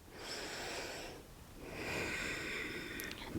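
Deep, slow yoga breaths taken in a core-engaging pose with the arms raised overhead: two long, close breath sounds, the second fuller and airier, with a brief quieter gap between them.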